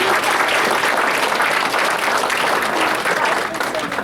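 A banquet audience gives a round of applause, a dense, steady wash of clapping that stays loud and continuous from start to finish, with a faint murmur of voices underneath.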